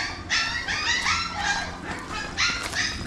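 Puppies kept in a cage whimper and bark in high-pitched bursts, several overlapping yips and whines close by, rising and falling.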